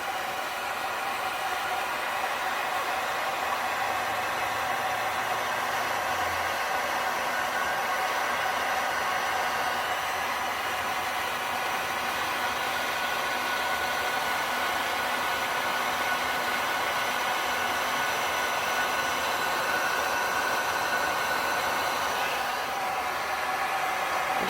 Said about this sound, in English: So I'm going to take my heat gun. This is a Wagner 550. I'm going to turn my fan up all the way, but leave my heat low.